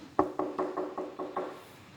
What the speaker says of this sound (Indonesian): serigala kemudian mencoba, ya betul, mengetuk pintu dulu.